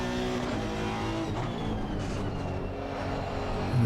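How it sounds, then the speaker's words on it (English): A Honda race car in the racing game ACC, its cold front tyres scrabbling for grip under a loud, sustained engine drone as it pulls toward fourth gear, with no voices. "Scrabbling for grip."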